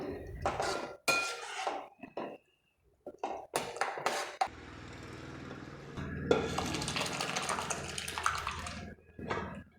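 A spoon stirring sambar in a cooking pot, with irregular clinks and scrapes of metal on metal broken by short pauses, followed by a longer stretch of softer swirling.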